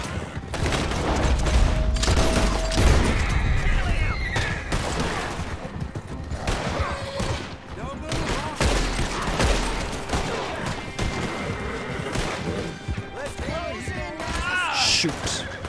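Gunfire in Red Dead Redemption, a dense volley of shots and bangs that keeps going throughout, with a voice talking over it.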